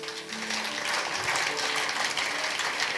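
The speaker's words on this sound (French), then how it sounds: "On va applaudir Jésus." Church congregation applauding during a service, a steady dense wash of clapping that fills the whole stretch at even loudness, with faint tonal sounds underneath.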